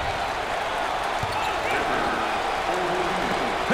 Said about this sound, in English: Ware has got the fans roaring in applause